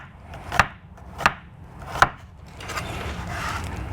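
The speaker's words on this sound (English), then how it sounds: "We're gonna take just a little onion. Some red onion. I'm just gonna do little tiny slices," A knife cuts thin slices of red onion on a cutting board with three crisp, evenly spaced chops followed by quieter board sounds, close and clear with no talking.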